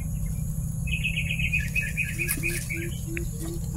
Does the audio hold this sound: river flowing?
no